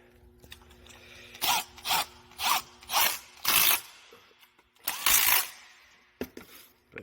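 Tightening down an engine part on a 2013 Mercedes-Benz C250 during ignition coil work, with a string of short ratcheting bursts close by, separated by brief pauses, then a couple of later clicks.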